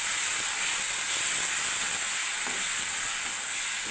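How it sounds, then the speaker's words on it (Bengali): Chhana (cottage cheese) filling for ponir pur bora pitha is stirred in a hot pan, giving a steady, even sizzling hiss that runs without a break, close and moderately loud, with no voices. "এবার আমি নাড়তে থাকবো বন্ধুরা"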